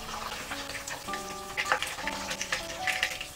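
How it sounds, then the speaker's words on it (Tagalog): Soft Japanese tofu fries in oil with a close, steady crackling sizzle, while light background music plays quietly underneath. "habang nagpipirito ako dito ay dahan-dahan lang yung aking pagbabaligtad dito dahil itong Japanese tofu is mas soft"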